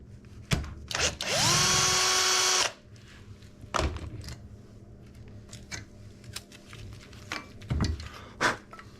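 A power drill works screws out of a Bosch voltage regulator: one near, loud whirring burst lasting about a second, framed by scattered clicks and handling knocks of the tool and part.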